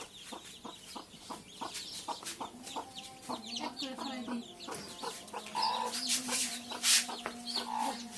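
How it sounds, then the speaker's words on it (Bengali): A mother hen with thirteen chicks clucks at close range in a village yard while the chicks cheep in high, busy bursts throughout. "মুরগির বাচ্চা সেও সেও করতেছে"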